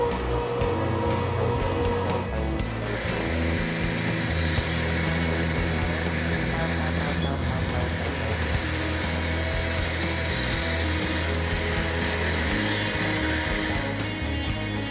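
Band saw with a 10 TPI blade resawing wood into thin veneer sheets, a loud continuous motor whine and rasping cut running steadily throughout, no talk.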